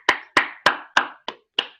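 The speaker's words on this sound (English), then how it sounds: "So give us a round of applause." Six sharp, evenly spaced hand claps from a participant in an online meeting, close and clear with no talk.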